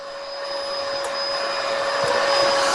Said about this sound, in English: I'm pretty sure that was a vacuum cleaner.